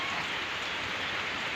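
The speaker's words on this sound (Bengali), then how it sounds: "একদম ননস্টপ বৃষ্টি সারাটা দিনই পড়লো।" Steady rain falling all day on a farm in Assam, a dense, even patter that holds at a constant level for the whole stretch, with no voices.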